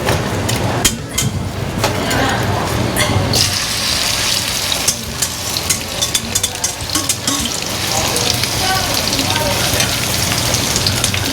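Egg and onion pancake frying in plenty of oil in a pan, a loud, continuous close sizzle with sharp crackles and pops and occasional clinks of a utensil.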